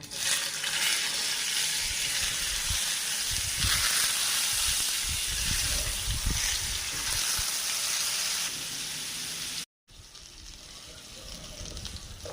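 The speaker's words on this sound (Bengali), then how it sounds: "আজকে আমি 2 রকম করে পটল ভাজবো" Pointed gourd (potol) frying in oil in a pan gives a loud, continuous crackling sizzle with occasional stirring bumps, then a brief cut and a quieter sizzle resuming.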